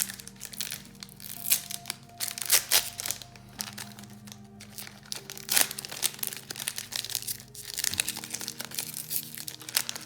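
Sealed Cardfight Vanguard Bang Dream trading card booster pack being forced open by hand, a close run of crinkling, crackling foil and plastic with sharp tearing bursts, uneven and continuous with pauses, no voices.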